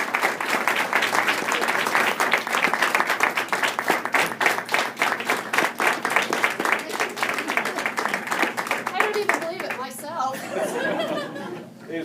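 Sustained, dense applause fills a board of education meeting room, honoring the state of Kansas Music Educator of the Year, with crowd chatter and light laughter mixed in, thinning toward the end.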